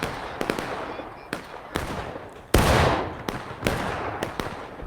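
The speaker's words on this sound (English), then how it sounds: "the cannons are now adjusting to fire on this big line that we're seeing" Cannon artillery fires in a Civil War battle video game, with sharp booms at irregular intervals and one heavy blast with a long rumbling tail, heard near and loud over a noisy battlefield backdrop.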